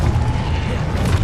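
Expulso explosion spell cast in the game Hogwarts Legacy, a brief, loud, booming blast with a low rumbling body lasting about a second.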